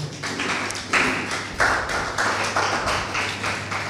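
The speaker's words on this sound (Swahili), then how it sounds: "Makofi kwake tafadhali." Audience applause welcoming a student at a Quds Day gathering during Ramadan, a steady patter of many hands clapping with a few sharper claps rising above the crowd.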